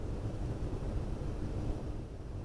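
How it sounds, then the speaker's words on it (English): Steady low wind roars and rushes on a planet in the Space Engineers survival game, a continuous broadband blowing with no distinct events and no talk. "Getting windy"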